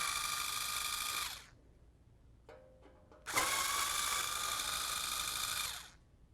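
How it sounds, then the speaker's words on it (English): A power screwdriver backs out the screws holding the shields on a 48-inch SKS dual fuel oven, two steady whirring runs of about a second and three seconds, separated by a short pause, close and clear. "so we'll just remove those 2 screws"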